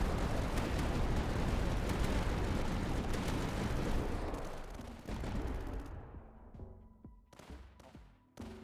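Defense towers in the Tower Dominion video game fire continuously, a loud dense barrage of gunshots and blasts that thins into a fading rumble with a few separate sharp shots near the end.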